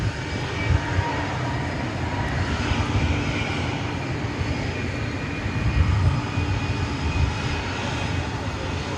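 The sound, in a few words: McDonnell Douglas MD-11 jet aircraft at DFW Airport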